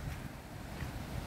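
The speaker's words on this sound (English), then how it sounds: "that sounds like waterfalls on this left side" Sherbrooke Falls in the Dandenong Ranges after rain, a steady broadband rush of falling water with some wind buffeting, continuous and loud, with no voices.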